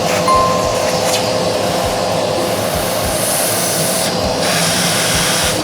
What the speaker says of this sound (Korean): 자, 그리고 일단 이쪽 주변을 한번 청소기로 좀 청소해 주겠습니다.